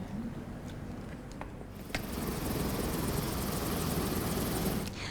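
A police helicopter on standby for Independence Day security in Indonesia's new capital flies overhead as a steady, loud rotor and engine wash that rises and holds, with no talk.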